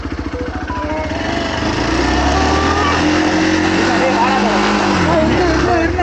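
A Hero Xpulse 200 motorcycle cranks and fires up off-road, its rapid starter pulses giving way to a loud, steady engine drone under excited voices.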